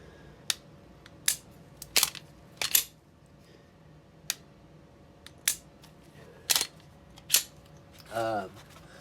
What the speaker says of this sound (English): And now the best part is the reset.